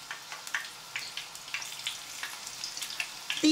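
Stuffed flowers fry in oil in a pan, a faint sizzle with a string of soft, evenly spaced crackles and pops.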